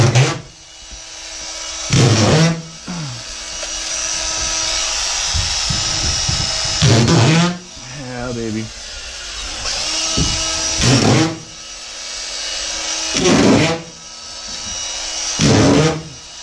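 Power drill driving screws into drywall while hanging a bathroom wall, loud close whirring bursts repeated several times with short pauses between, each rising and cutting off as a screw seats.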